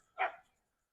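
At an RV resort in Indiana, a dog gives a single short, fairly loud bark nearby, followed by silence.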